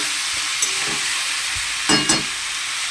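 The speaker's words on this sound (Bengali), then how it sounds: "একটু পেঁয়াজ দিয়ে মাংসটাকে খুব ভালো করে, আর আলুটাও দিয়ে দিয়েছি। তো ভালো করে এখন আমি কষবো।" Chicken pieces with onion and potato sizzle and fry steadily in a hot pan, with a few louder scraping stirs of a spoon partway through; no voices.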